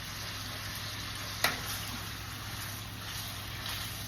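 Sausage and shrimp sizzle steadily in olive oil in a pan, a soft continuous hiss with one sharp pop or clink partway through.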